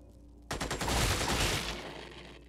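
Burst of automatic gunfire in the strategy game Xenonauts, a rapid string of about half a dozen shots that blur into a rolling, fading roar lasting a couple of seconds, heard alone without talk.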